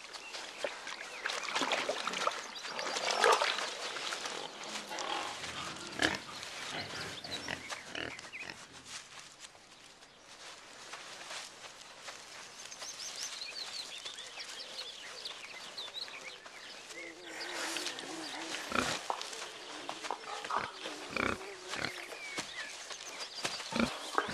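Wild boar in a flooded jungle, with grunting and snuffling from a mother and her young. The grunts come in irregular bursts over the course of the recording, fairly quiet and close, against a low wet background.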